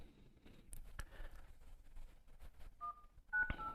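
Keypad tones from the MIUI dialer on a Poco X3 NFC phone, two short, faint beeps near the end after a few soft taps, heard close and alone.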